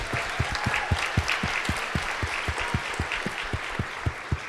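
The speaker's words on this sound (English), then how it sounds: "Give yourselves a round of applause, everyone." Audience applause in a room full of women, a crowd clapping in a strong, fairly steady beat, loud and close, with sharp evenly spaced claps over a softer wash of clapping and no talk.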